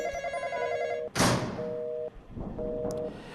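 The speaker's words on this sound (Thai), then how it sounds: "เสียงโทรศัพท์ขยันโทรแล้วเลย" A telephone rings in the Roblox game Intruder, steady repeating electronic trills broken by a loud thump, then the ringing resumes, with no talking.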